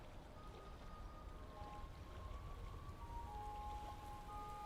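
Steady rain falling on a warm February day around a river steamboat, a soft continuous patter with faint tonal hums underneath, moderately quiet and without voices.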